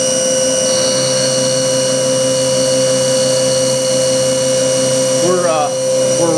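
A machine milling an inside pocket into a workpiece, spinning at just under 4,000 RPM, gives a steady loud whine with strong sustained tones throughout, and a brief rising chirp near the end.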